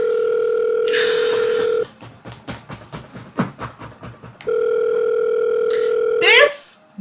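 An outgoing phone call's ringback tone sounds twice as steady, loud, unbroken tones, with a stretch of rhythmic knocking-like noise between them and a brief voice at the close.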